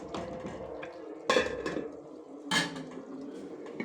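Metal ladle scraping and clanking against cooking pots as grilled chicken and spiced Egyptian rice are served, two sharp clatters amid quieter scraping, close and fairly soft, with no talking.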